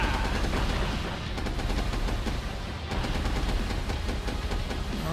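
Sustained gunfire hammers at the player's tank in the Tanks vs Robots video game, a dense, continuous rattle of rapid shots and booms that stays loud throughout with no pause.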